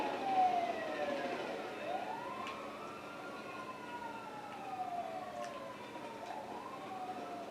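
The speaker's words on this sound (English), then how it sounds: "Ambulance." Ambulance siren from the game GTA V wailing in long rising and falling sweeps, moderately distant and steady over low background rumble, with no talk.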